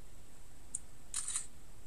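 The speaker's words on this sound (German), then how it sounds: "Ich werde jetzt einfach mal ein Probebild schießen." Smartphone camera shutter on an Archos 50f Helium Lite firing a test photo: one short click, then a quick cluster of two or three crisp clicks a moment later, faint and close against a quiet background with no talking.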